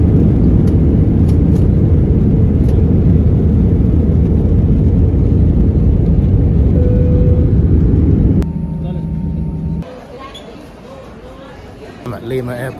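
Jet airliner engines roaring steadily and loudly from inside the cabin during takeoff from Lima Airport, Peru, then the roar drops abruptly to a quieter hum with a faint voice near the end.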